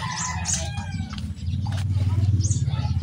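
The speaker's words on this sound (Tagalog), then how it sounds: "Maraming mga manok dito kaibigan," Fighting cocks clucking and calling in a yard, many birds at once with rapid rhythmic clucking close by and occasional higher calls, a voice speaking over part of it.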